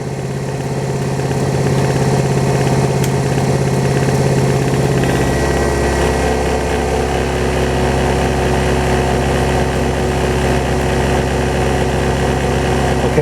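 An AC motor running under an electrical brake load on a lab bench gives a steady, loud low hum and mechanical drone that deepens and thickens about five seconds in, then holds constant without any voices.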